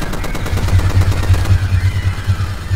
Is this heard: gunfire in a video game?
yes